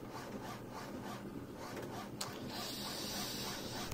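A photocopier printer running as it prints out a copy, a steady mechanical whir and rubbing feed sound with a brief click partway, close and continuous.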